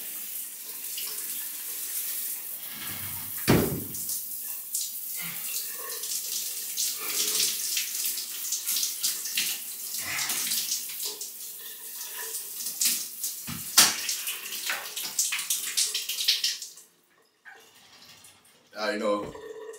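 Cold shower water runs steadily and loudly from the showerhead, with occasional sharp knocks and splashes as someone moves under the spray, before the flow briefly cuts off near the end and resumes.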